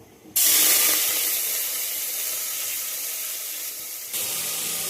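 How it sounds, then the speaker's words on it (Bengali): Onion dropped into hot caramelized sugar in a pan erupts into a loud, steady sizzle that flares suddenly, holds as a bright hiss, then swells again near the end. "আমি এর মধ্যে এবার পেঁয়াজটা দেবো।"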